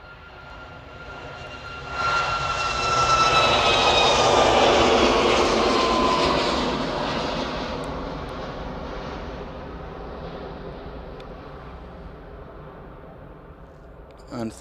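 An airplane passes overhead at Manchester airport, its engine roar swelling loudly, peaking, then slowly fading into the distance, with faint talk in the background.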